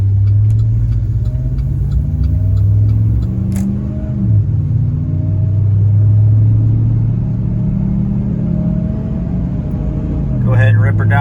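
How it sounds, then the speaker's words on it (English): A 2010 Chevrolet Silverado V8 with a collapsed lifter starts and runs, its loud, close low rumble settling into a steady idle with brief rises in revs, and a voice speaking near the end. "Start it up and make sure our lifter tick is gone."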